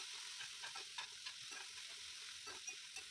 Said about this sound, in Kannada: ಈಗ ಇದಕ್ಕೆ ನಾನು ದೊಡ್ಡ ಸೈಜ್ದು 2 ಟೊಮೆಟೊನ ಹಾಕಿ ಫ್ರೈ ಮಾಡ್ತಾಯಿದ್ದೀನಿ